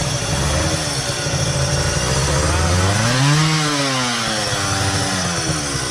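A raspy two-stroke twin-cylinder motorcycle engine buzzes loudly and close, its pitch climbing in a rev and dropping back, continuous throughout.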